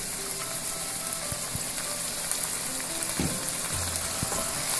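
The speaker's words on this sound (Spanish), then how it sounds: "vamos a echar un chorrito de salsa china y un chorrito de salsa de soya" Shrimp sizzle steadily in a hot pan as splashes of Chinese sauce and soy sauce go in for a Peruvian-style fried rice, a continuous close frying hiss with faint stirring scrapes and no talk.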